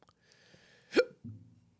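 A single sharp, close hiccup from a man on a podcast, standing out briefly against a quiet room, followed by a faint low murmur.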